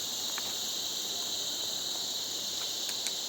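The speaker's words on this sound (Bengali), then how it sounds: "এই ঝিঝি পোকার মতন ডাক একদম মানে পুরো জঙ্গল" Crickets trill steadily in a forest on the Madmaheshwar trek in Uttarakhand. Their shrill, continuous high-pitched chorus holds at an even level throughout, with a few faint clicks and no voices.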